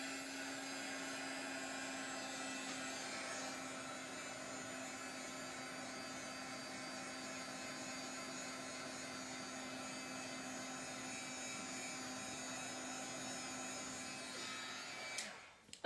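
A hair dryer blows steadily to dry paint on a small mixed media Christmas craft, a continuous even whoosh with a constant hum that runs alone at close range, then cuts off abruptly near the end.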